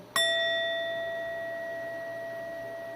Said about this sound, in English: as I hit this activation bell, imagine that light going within that chakra and healing happening